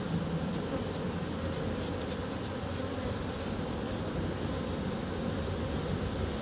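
Honeybees buzz in a dense, steady drone as they are brushed off hive frames, close and continuous with no talking.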